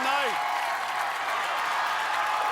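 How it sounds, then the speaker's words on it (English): Crowd at an American Ninja Warrior finals event in Houston cheers and applauds loudly and steadily, a dense wash of clapping and shouting that holds for the whole stretch, with a brief voice rising briefly near the start. "the crowd is erupting"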